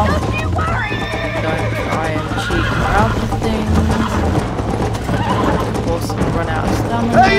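Horse neighing and hoofbeats clip-clopping in Red Dead Redemption on Xbox, with the in-game horse sounds running steadily under game music and talk from characters and a player.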